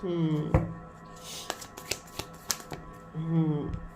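Tarot cards are shuffled in a quick series of crisp snaps and flutters, with a voice heard briefly at the start and end.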